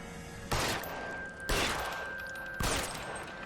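Tommy gun bursts in the LA Noire video game: three loud, close bursts of rapid automatic fire about a second apart, each trailing off into ringing noise, with a faint tone held underneath.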